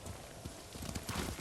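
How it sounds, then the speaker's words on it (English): Horse hooves clip-clopping at a gallop in the Ghost of Tsushima video game, a rapid uneven rhythm of thuds that builds louder toward the end over a steady background wash. "Horse!"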